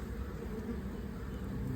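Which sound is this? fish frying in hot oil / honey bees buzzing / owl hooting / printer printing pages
honey bees buzzing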